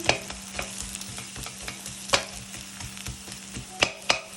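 Chopped onion cooks in a pan with a steady soft sizzle, broken by occasional louder scrapes and taps of a utensil stirring it, all fairly close and without talk.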